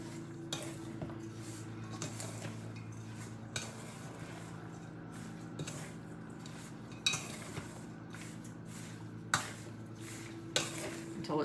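A utensil stirs thickener into cherry pie filling in a bowl, making soft, continuous scraping with occasional sharper clinks against the bowl, fairly quiet and close.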